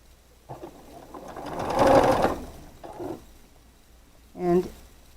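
A sewing machine stitches quilt half-square triangles for a rainbow star block, running in two or three short close bursts, the longest a steady whir, with quiet gaps between them.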